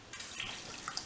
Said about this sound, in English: woohoo, there's our water pump.